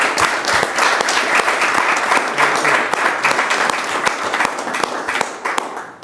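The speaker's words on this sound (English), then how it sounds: "I think Confluence deserves a round of applause." Loud, close applause fills a city council chamber as an award is handed out, steady dense clapping from the audience that thins slightly toward the end.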